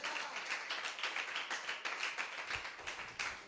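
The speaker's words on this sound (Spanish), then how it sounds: "Dele un aplauso fuerte al Señor." Church congregation clapping hands together in a steady, rhythmic beat, fairly faint and distant, with no talk over it.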